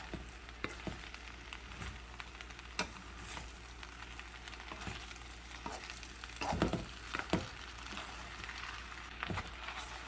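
Pork lo mein tossed in sauce in a hot pan, a steady quiet sizzle broken by scattered scrapes and clacks of the utensil stirring the noodles, close by with no talking.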